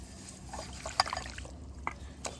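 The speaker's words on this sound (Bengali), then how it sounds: "জল নিয়ে নেব আর জলের মধ্যে এই দূর্বা ঘাসগুলো দিয়ে দেবো।" Durba grass is swished in a container of water, with small trickles, splashes and dribbles at intervals over a quiet background.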